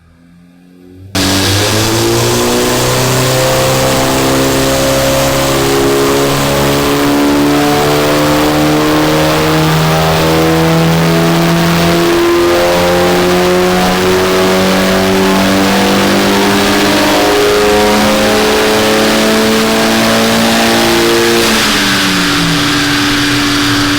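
An Audi A3 TFSI with breathing modifications accelerating hard in fourth gear on a dyno, its engine note rising steadily and loudly for about twenty seconds before the throttle is cut.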